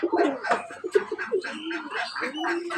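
Domestic pigeons at a village home, with a nesting hen and a young squab, give soft repeated burbling coos at close range, quiet and low, with a faint voice mixed in.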